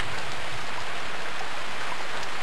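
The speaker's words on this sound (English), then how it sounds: "Can't rain forever." Steady rain falls without a break, a dense and even hiss at moderate volume, with no voices over it.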